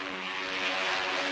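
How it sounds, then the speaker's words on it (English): Steady, loud propeller engine roar of a 1942 fighter plane diving, a sustained droning whine with no break across the short stretch and no talking. "Their job is to protect their ship from assault by diving fighters like this."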